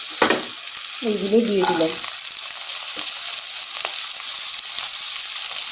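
Capsicum fries in hot oil or ghee with a loud, steady hiss and crackle, with a few stirring knocks and a short spoken phrase near the start.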